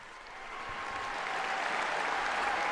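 A crowd of over 11,000 young people greeting the Pope in Budapest applauds, swelling from quiet to a sustained, dense clapping, many hands together, steady and fairly distant.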